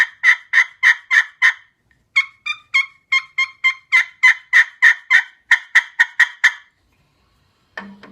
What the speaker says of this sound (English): This ceramic, it'll run nice and clear if you want. You get raspy on it.